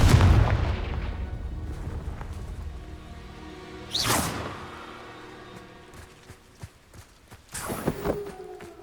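A Confringo fire spell fired in the video game Hogwarts Legacy: a low rumbling burst opens, then a sharp whooshing blast near the middle, with smaller crackles and a second bright flare toward the end.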